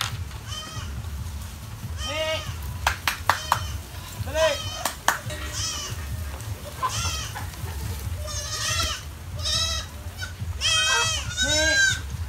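Goats in a backyard farm pen bleat repeatedly, close and clear, with wavering calls overlapping one another over a low background rumble, along with a few sharp clicks.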